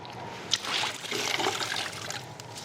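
Wet finishing towel for car glass care being squeezed hard, water trickling and dribbling out in a short close burst of splashy, crinkly sounds.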